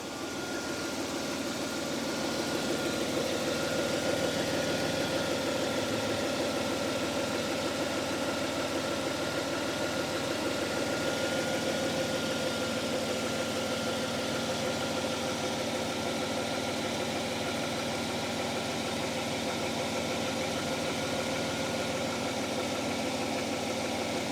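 Jaguar XJ40 engine idling steadily just after starting, a low even hum with faint mechanical ticking, continuous and moderately quiet throughout.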